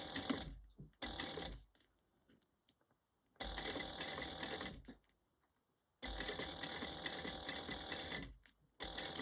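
Sewing machine top stitching a bag, running in three bursts of rapid, even needle chatter separated by pauses, close and fairly quiet, with small handling noises in the gaps.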